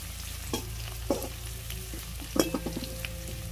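Quiet, steady sizzling of chopped ginger and garlic frying in a pan, with a few clinks and scrapes of stirring.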